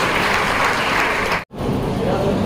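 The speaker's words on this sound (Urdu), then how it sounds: "ایک بار زوردار تالیاں ہمارے سیکریٹری کے لیے" An audience at a Mumtaz Day ceremony breaks into dense, steady applause for the secretary. The clapping is loud and continuous, with a brief cut partway through.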